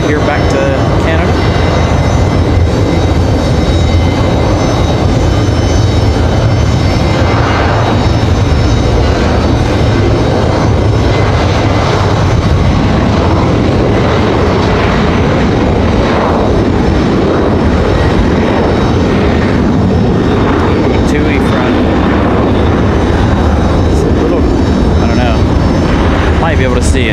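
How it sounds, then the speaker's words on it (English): A WestJet Boeing 737 rolling out for departure to Calgary gives off a continuous loud engine whine and rumble that stays steady for a long stretch, with faint voices mixed in beneath the noise. "As our masked 737 rolls out of here back to Canada."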